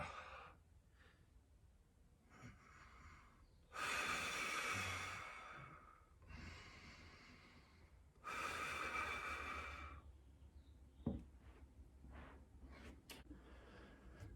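Slow, deep breaths during a lower-back stretching exercise, with two long loud exhales and inhales rising and falling between quieter stretches, close to the microphone and without speech.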